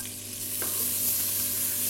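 Finely sliced white onions hit a pan of frying bacon, a steady close sizzle with a brief stirring scrape, continuous and hissy without any talk.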